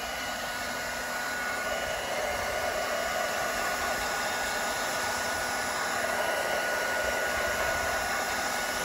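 A hot-air blower welding machine seals geomembrane liner sheets together, producing a loud, unbroken, even rushing hiss of blown air that holds steady throughout.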